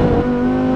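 A Lamborghini engine revs in neutral, giving a loud, smooth, steady tonal roar that holds at one pitch through a brief close burst.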